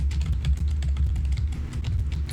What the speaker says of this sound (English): I hear rapid typing.